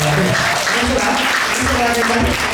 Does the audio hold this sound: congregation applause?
yes